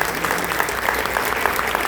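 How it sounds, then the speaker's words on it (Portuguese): A church congregation claps in brisk, steady applause, a dense crowd of hands close and continuous throughout. "Dá uma linda salva de palmas para o Senhor Jesus."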